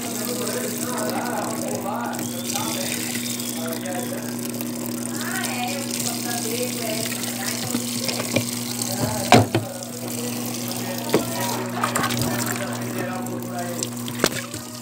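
Water is poured into a Brastemp washing machine to rinse out vinegar, a steady close liquid splashing and trickling throughout, with a mechanical hum and some clunks underneath.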